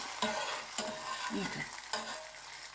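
Vegetables stirred and frying in a pan for a Kabyle dish, with a steady sizzle broken by several sharp scraping stirs of a utensil against the pan, close and fairly quiet.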